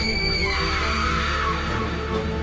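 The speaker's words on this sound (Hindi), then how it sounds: "तभी लिली चिल्लाती है" A girl's scream in a Hindi horror audio drama, a sustained, loud, shrill cry holding steady for about two seconds over a dense layered background.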